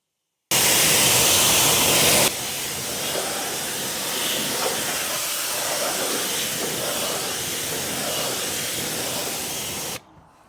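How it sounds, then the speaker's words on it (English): Pressurized water spray rinsing car wheels and tires during a decontamination wash, a loud steady hiss that starts abruptly, drops to a slightly softer continuous spray after a couple of seconds, then cuts off. "You want to keep rinsing till that milky white residue is off"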